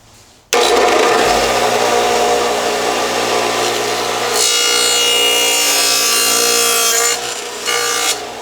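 A dado stack on a 12-inch table saw cuts through a board, a loud, steady whining roar that starts abruptly and holds for about eight seconds, its pitch shifting slightly as the cut goes on.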